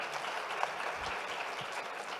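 Audience applause at a business forum in Botswana, a steady wash of clapping heard from a distance, fairly faint, with no talk over it.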